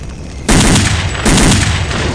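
Rapid automatic gunfire in Counter-Strike: Condition Zero, two loud, dense bursts of continuous shooting close up, with no talk.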